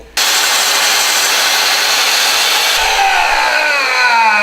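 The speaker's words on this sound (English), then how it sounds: "I'm ready to cut my center vertical beam so I can lay the whole thing down" A power saw cuts through a wooden center vertical beam for a garage shelf, starting abruptly after a brief pause and whining loudly and continuously, with the pitch shifting slightly as the blade works through the wood.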